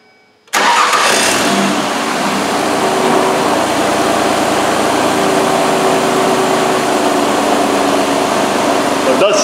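A Ford Escape with an idle air control overspeed fault cranks and fires up abruptly after a moment of quiet, then settles into a loud, rough, steady high idle with a faint rattle.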